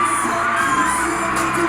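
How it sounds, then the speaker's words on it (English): A large concert crowd roars and screams as a song plays, a continuous dense wash of cheering sustained throughout, with no clear speech. "You hear that crowd? It's going crazy."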